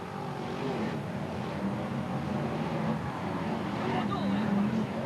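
Brisca F1 stock cars race down the home straight toward turn one, a dense roar of several engines running under continuous commentary, steady and moderately distant.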